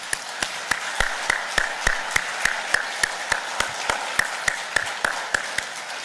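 A church congregation claps together in a steady, evenly spaced rhythm, a sharp clap roughly every third of a second, carrying on for several seconds without talk over it.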